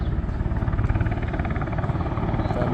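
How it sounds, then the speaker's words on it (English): A helicopter lands behind the Berlin chancellery, its rotor beating in a fast, steady rhythmic chop over a low engine drone, fairly close and loud throughout. "That's the helicopter."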